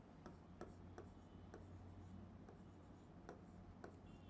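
Chalk or marker writing on a board in a physics class, a quiet run of scratchy strokes with sharp taps at irregular intervals over a steady low room hum.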